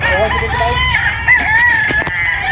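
At a poultry farm, roosters crow loudly and close by, with overlapping calls and a steady background of chickens clucking.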